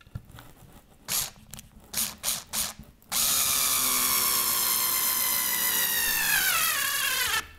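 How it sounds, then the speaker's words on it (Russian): A Bosch IXO IV cordless screwdriver, a 2012 Chinese-made unit, gives several short whirring bursts, then drives a long self-tapping screw in one steady, loud, close-up motor whine that rises in pitch as the screw seats and keeps spinning. "Он закрутил и еще там его прокручивает."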